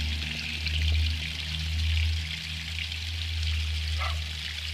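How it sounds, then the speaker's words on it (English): Water streaming steadily out of a trailer's 6-gallon water heater tank during winterization, a continuous hissing pour with a low droning hum beneath, loud and close, with no talk. "now that water is just streaming out"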